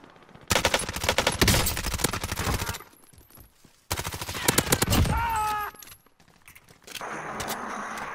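Rapid bursts of automatic gunfire and shots in a Call of Duty Warzone match, loud and close, broken by short pauses, with a few metallic pings and a brief whistling streak before quieter clatter.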